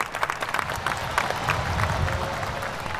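Military audience clapping for Vice President Mike Pence at an armed forces event, a dense steady wash of many hands applauding from across a crowd, continuous and fairly loud throughout.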